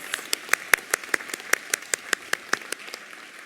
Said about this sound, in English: Let's have a round of applause for all of our MSN graduates and postmaster's certificate recipients